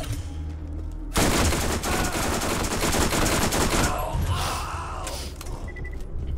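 SMG gunfire in the shooter Borderlands, a sustained loud burst of rapid automatic shots running several seconds, then fading into mechanical clatter and quieter game ambience.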